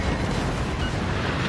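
A battleship explodes in a video game as it is sunk, a dense, roaring blast-and-rumble that fills the short moment loudly and steadily with no voices.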